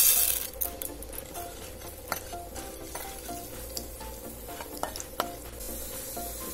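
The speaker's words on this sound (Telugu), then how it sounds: "ఇప్పుడు పోపు దినుసులు వేయాలి." Tempering spices sizzle in oil in a pot on the stove for poha pulihora, a close crackle with spoon clinks and scrapes against the pan at irregular intervals.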